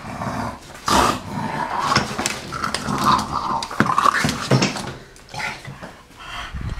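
A dog growls close by in rough, rumbling bursts mixed with panting and snorts, loud and alone without talk.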